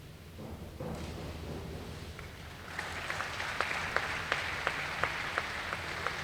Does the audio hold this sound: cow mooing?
no